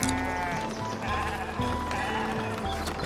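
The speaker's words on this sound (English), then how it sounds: "Let's spawn some sheep." Sheep on a newly built farm in the medieval city-building game Foundation bleat loudly in several overlapping, wavering calls, close and clear above a soft ambient backdrop.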